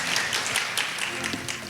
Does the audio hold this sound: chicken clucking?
no